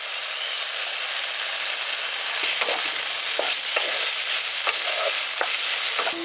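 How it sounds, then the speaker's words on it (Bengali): Fried prawns going into a sizzling spice paste in a village kitchen: a steady, bright hiss of frying oil with scattered scrapes and clicks of stirring, close and continuous with no talking. "এবার ভেজে রাখা মাছটা দিয়ে দিচ্ছি।"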